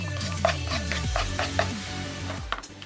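Chopped onions drop into a pot for vegetable soup, giving several scraping, clattering thuds and a soft sizzle, with a few sharper knocks near the end.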